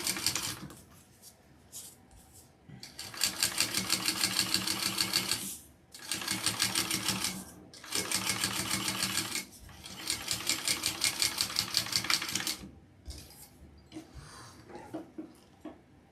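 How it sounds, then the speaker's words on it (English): A sewing machine top stitches fabric in four quick, whirring bursts separated by short pauses, fairly close and moderately loud, with softer handling sounds between runs. "now I'm going to top stitch that up"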